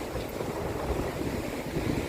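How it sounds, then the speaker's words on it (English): Blustery wind buffeting the microphone, a constant low rumble with gusty fluctuations and no other distinct sounds. "It's a bit windy today"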